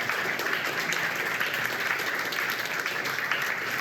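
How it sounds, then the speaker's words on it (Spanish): A church congregation applauding after a sermon, dense sustained clapping from a large crowd filling the room evenly, loud and unbroken. "¿Me puede dar un aplauso al Señor,"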